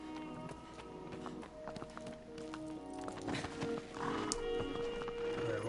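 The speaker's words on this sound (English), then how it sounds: "Alright, horse." A horse in a game, hooves clopping and snorting amid wild animal noises and ambient background, steady moderate loudness with no speech heard.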